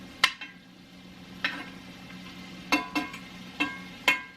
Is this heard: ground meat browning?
yes